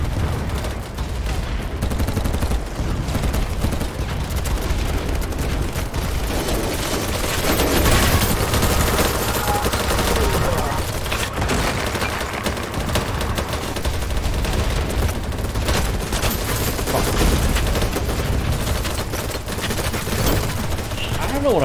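Rapid automatic gunfire rattles through a BattleBit Remastered match, dense overlapping bursts filling the whole stretch with barely a pause, loud and close, while a voice talks over it at times.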